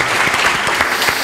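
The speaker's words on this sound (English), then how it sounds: "a special round of applause for Sebastian." A panel-discussion audience claps in a brief burst of dense, steady applause at close range, with no voices over it.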